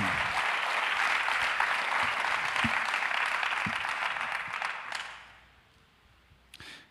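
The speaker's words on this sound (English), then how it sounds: "give them a thank you by clapping your hands" A church congregation at a Sunday morning service claps hands in thanks, a steady sustained wash of applause that fades out after about five seconds, leaving a few scattered claps and quiet.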